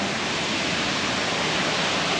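Waterfall on Amber Mountain, a purification bathing spot, roars in a steady, loud broadband rush of falling water, continuous and close, with no voices over it.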